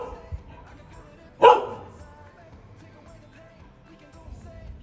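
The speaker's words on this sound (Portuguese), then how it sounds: "Vou ter que ir lá pegar o pote pra ela parar de latir." A dog barks once, sharp and fairly close, at a pot floating in a swimming pool at a country property after a windy night. A faint outdoor hush fills the rest.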